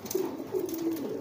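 A male pigeon coos while driving a hen, giving a close, steady series of low, throaty rolling coos with no talk.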